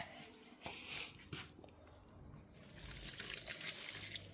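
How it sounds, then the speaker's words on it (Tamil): Water splashes and trickles steadily onto chili plants in the second half, following a few soft knocks and a brief quiet moment, with faint rustling in the background. "இப்போ இதில் தான் இந்த தண்ணி ஊற்ற போகிறேன் கொஞ்சம் கொஞ்சமாக"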